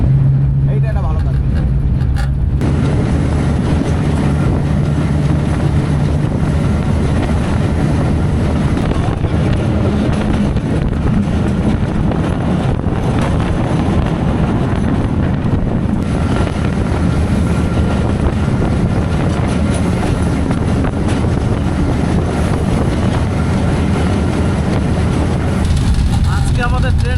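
Kanchan Commuter train running at speed, heard from inside the locomotive cab: a steady, loud rumble and roar with wind buffeting throughout, with people talking over it.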